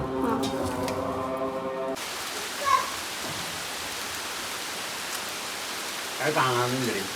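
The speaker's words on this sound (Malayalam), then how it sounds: "മഴയുടെ സൗണ്ട് കേൾക്കുന്നുണ്ട്." Steady rain falls throughout as a dense, even hiss, with voices talking briefly at the start and again near the end.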